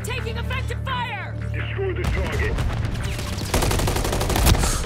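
Rapid bursts of gunfire from the PC shooter Modern Warfare 3, dense and loud over steady game hum, with a denser stretch of shots near the end; a voice talks over the battle.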